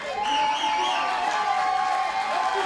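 Crowd at a women's fight at Univision Studios in Miami, Florida, cheering on their feet as a steady roar with whistles rising above it, loud and continuous and carrying through the whole stretch.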